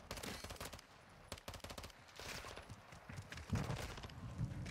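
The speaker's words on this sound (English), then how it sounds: "Yeah, that was a difficult gunfight" Rapid gunfire crackles through a Modern Warfare 2 gunfight, bursts of automatic shots following one another in quick clusters, fairly close and dense, with no talking.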